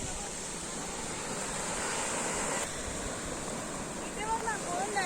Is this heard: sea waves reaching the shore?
yes